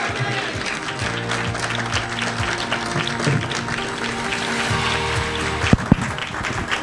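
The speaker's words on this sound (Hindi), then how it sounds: "जोरदार तालियां, जोरदार" A live audience at a motivational talk in Mumbai claps in a steady, dense wash of applause, with a low hum and voices mixed underneath and a couple of sharp knocks near the end.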